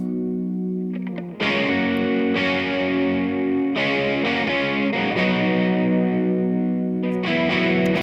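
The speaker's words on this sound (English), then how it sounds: "And here comes the Les Paul." A heavily distorted Les Paul electric guitar rings out in sustained chords, loud and continuous with a warm, saturated tone and a touch of spring reverb, no voices.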